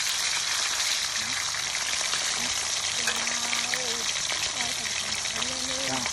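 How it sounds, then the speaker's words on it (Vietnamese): Fish sizzling steadily as it fries in a non-stick treated aluminum pan, a dense continuous crackle throughout with a voice talking over it. "con cá của em anh để vô chiên luôn nữa ha"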